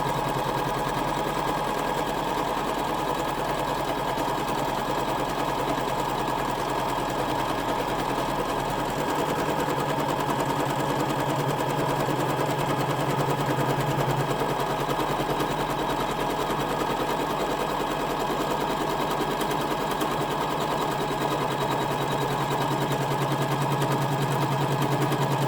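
An embroidery machine stitches out a design in the hoop for a scallop pouch with a continuous rapid mechanical chatter, steady and close throughout, with no talk.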